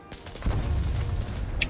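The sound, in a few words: gunfire from a tank video game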